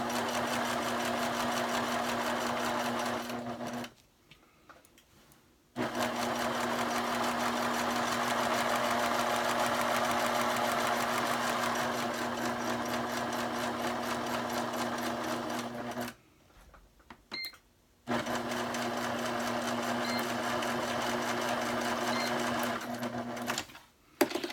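A sewing machine hums steadily in long stitching runs while binding a fabric quiet book, stopping briefly twice before starting up again, close and continuous.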